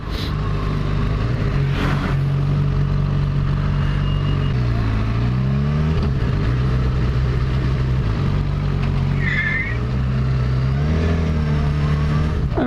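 A car engine revs and accelerates steadily to overtake a bus, its pitch rising and falling as it pulls ahead, loud and close throughout with traffic noise around it.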